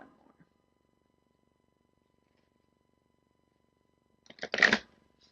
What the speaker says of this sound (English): Just get a couple more shuffles in here.